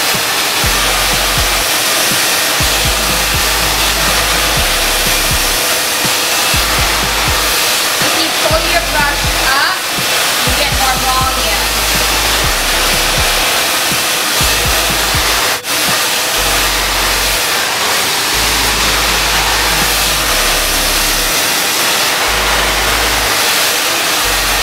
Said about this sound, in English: right now I'm just showing you how to do a basic blow dry and how to use the brush